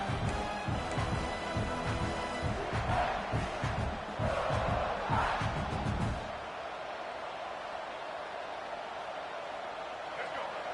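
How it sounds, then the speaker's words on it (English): Stadium crowd roaring during a Michigan vs South Carolina college football game in NCAA 26, a loud sustained rumble with cheering that drops to a lower steady murmur partway through, under a commentator's voice. "This crowd trying to make life miserable for this offense."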